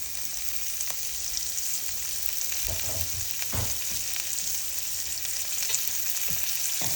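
Vegetables frying and being stirred in a pan for a Telugu cabbage curry: a continuous close sizzle with a few soft scrapes and knocks from the spoon, and no voices.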